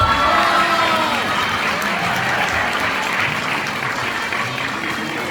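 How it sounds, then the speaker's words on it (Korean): A crowd at a book launch event in Daegu applauds loudly and continuously, a dense wash of clapping that fades slightly toward the end. "지금 이 박수는 가장 절절한 박수로 들렸습니다."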